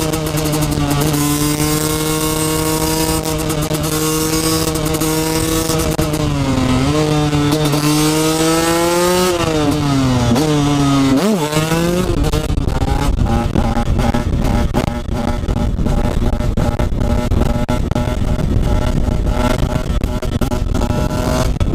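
A Husqvarna TE 125 motorcycle engine drones loudly and steadily, its pitch dipping and climbing as it slows and speeds up, then shifts into a rougher, buzzing rev while riding.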